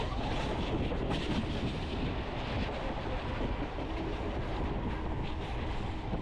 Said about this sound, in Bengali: মালবাহী ট্রেন।